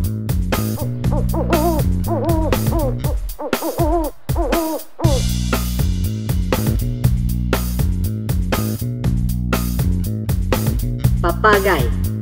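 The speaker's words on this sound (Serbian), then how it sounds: "Sova." An owl's repeated hoots sound out over a steady, loud backing music track, with the calls rising and falling in short wavering phrases.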